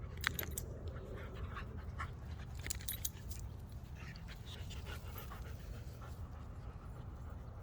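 A dog pants steadily and close by while moving around, its quick breaths continuous, with light metallic jingling and shuffling as it shifts about; no one speaks.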